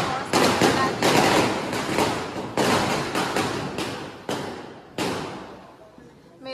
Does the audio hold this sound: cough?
no